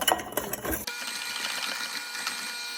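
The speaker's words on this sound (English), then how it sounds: "we're just gonna mix this on a low speed until it's combined" An electric mixer blends sourdough lemon cookie dough and egg on low speed, a steady close mechanical whir with a busier clattering moment at the start.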